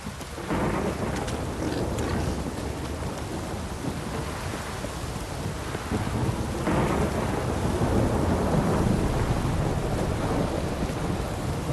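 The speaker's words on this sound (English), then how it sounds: "This downpour's a bastard," Heavy video game rain from The Witcher 3: Wild Hunt pours steadily throughout, with deep thunder rumbling and swelling partway through, loud and continuous with no voices.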